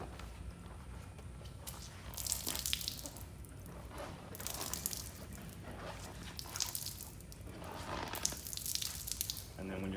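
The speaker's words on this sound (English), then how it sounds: "you want to just wring it out" Car wash mitt wrung out by hand during a car wash, wet squelching and splashing water in several uneven bursts, close up, with some voice in the background.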